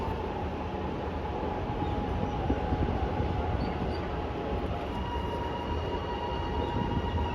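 A steady, loud rumble of a train rolls by continuously, with faint high squealing tones from the wheels mixed in.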